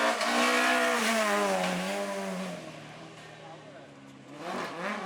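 A rally car at a Réunion rally event revs loudly nearby, its engine climbing and falling in pitch through a long rising sweep, easing off, then rising again, with people speaking over it.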